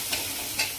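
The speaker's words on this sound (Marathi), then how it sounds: "हा मसाला छान परतून झाला, सतत त्याला हलवत राहायचंय" Masala for Solapur-style stuffed green-masala brinjal fries in hot oil while being stirred, giving a close, continuous sizzle broken by a few brief scraping strokes of the spoon.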